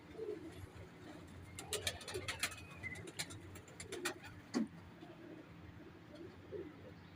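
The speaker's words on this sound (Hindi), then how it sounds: "जो कबूतर लिए हैं उनका शो करवाता हूँ" Pigeons kept by a bird fancier coo in soft low bursts, mixed with sharper chirps and tweets from other birds, all moderately close, with faint background voices.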